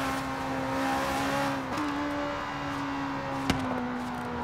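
A Ferrari 488 GTB Pista's engine drones at high revs in the racing game Forza Horizon 3, holding a steady tone with a brief dip and shift midway, then a sharp click-like transient, played fairly quietly.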